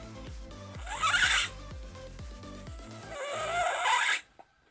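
A human voice imitates a zipper, making two long buzzy, rasping zips separated by a short gap, over a low rhythmic beatbox pulse.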